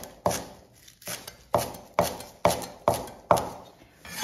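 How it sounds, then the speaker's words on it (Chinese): A knife chops green onion tops into small pieces on a board, giving about nine crisp, evenly spaced cuts close by with short decays, and no talk. "然后我们将葱绿呢给它切成葱花"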